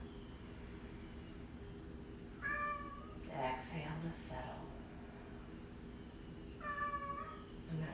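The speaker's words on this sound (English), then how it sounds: "sure if you guys can hear my hungry kitten in the background." A small cat meows twice, a few seconds apart, a little distance away, while a calm voice talks softly over a steady hum.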